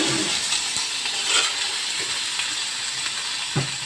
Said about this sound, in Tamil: எண்ணெய் ஊற்றி கடுகு போட்டு கருவேப்பிலை போட்டு வெங்காயம் இந்த காலிஃப்ளவர் போட்டுக்குவோம்